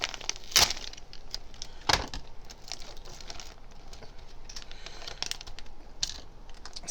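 Crinkly crackling and a few sharp tearing bursts as a plastic bag of toy army men is torn open by hand, close up, with irregular rustling between the louder rips.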